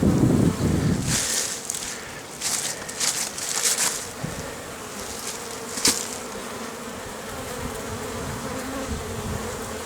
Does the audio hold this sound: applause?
no